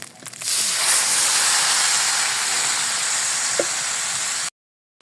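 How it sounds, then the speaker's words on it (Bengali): Water poured into a pan of fried rice for mutton khichuri sets off a sudden loud, steady hissing sizzle that holds for several seconds and then cuts off abruptly. "এখন আমি পানি দিয়ে দিব"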